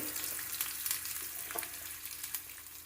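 Thin, long onion slices fry in hot oil over tempered seeds, a steady close sizzle with faint stirring clicks, and nobody speaking.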